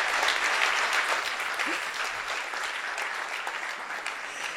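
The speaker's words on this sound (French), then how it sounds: "on s'applaudit" Audience at a startup pitch event applauding steadily, a dense, fairly loud wash of clapping sustained for several seconds and fading slightly toward the end.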